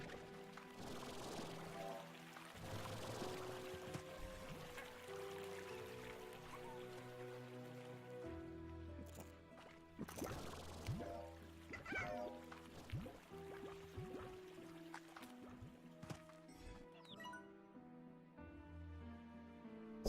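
Water flows in Slime Rancher, a steady pouring trickle and splashing stream under layered game music and chiming tones, fairly quiet throughout.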